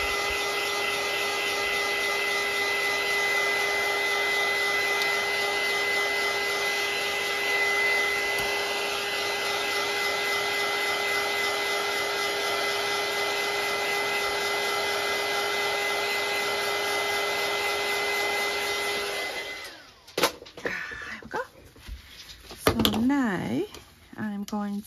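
A hair dryer runs steadily and loudly for about twenty seconds, drying a small shabby chic fabric pocket, then cuts off and leaves handling noises and brief movement sounds.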